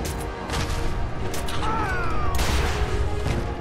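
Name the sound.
explosions in a video game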